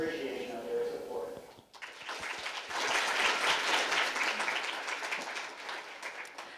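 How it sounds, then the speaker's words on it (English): A voice speaks briefly before a crowd at the 2021 Eagan Funfest Ambassador Coronation breaks into a full round of applause for sponsors, with the clapping holding strong and even through to the end. "Please give them a round of applause and appreciation of their support."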